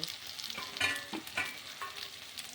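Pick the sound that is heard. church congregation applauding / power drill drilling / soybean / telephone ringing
soybean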